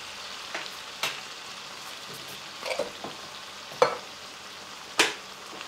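Drained tomatoes are stirred into taco macaroni in a pan, a soft continuous sizzle broken by several sharp spoon scrapes and clanks against the pan, close and with no talking.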